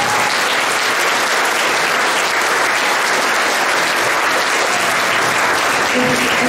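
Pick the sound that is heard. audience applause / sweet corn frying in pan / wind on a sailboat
audience applause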